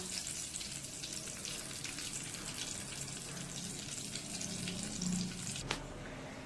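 Mustard seeds and dried red chilies frying in hot oil for a Tamil puli keerai dish, a steady close crackling sizzle with a faint splash of water near the end.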